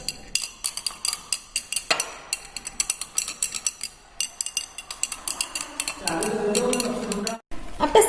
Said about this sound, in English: Now we adding the 1 ml of AgNO3 solution in this solution and stir immediately this solution also